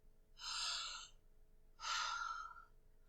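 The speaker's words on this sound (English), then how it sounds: "Take a big breath with me." Two deep, breathy inhalations and exhalations, each lasting under a second with a short pause between, close and fairly soft over a low steady hum; they are voiced as taking a big breath.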